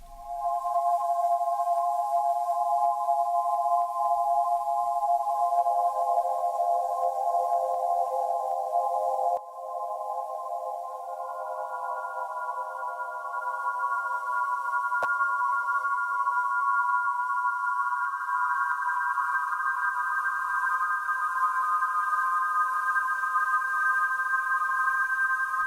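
Smooth sustained synth tones through a slowed chorus effect in the Reflection plugin, with gently shifting held notes that step upward over a long, soft passage. Nothing else plays alongside.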